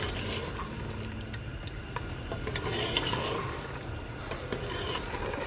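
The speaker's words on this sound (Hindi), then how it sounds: "इसको अच्छे से मिक्स करेंगे और इसकी अच्छे से मसाले के साथ ही भुनाई करेंगे" Mutton paya is stirred and roasted with spices over high flame, making repeated close scraping and rubbing strokes over a low sizzle, with sharp ladle clicks against the pot.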